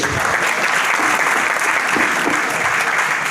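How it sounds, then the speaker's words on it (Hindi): Sustained, dense applause from an audience filling a hall at a corporate gathering, loud and even throughout with no pauses or speech. "जोरदार ताली हो जाए लोगों के लिए।"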